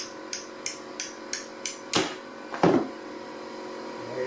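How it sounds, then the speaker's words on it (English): A hammer striking a half-cut bolt during a bathroom renovation: six light, evenly spaced metallic taps, then two heavier ringing blows, close and alone. "You can do like halfway and then get a hammer and just hit it."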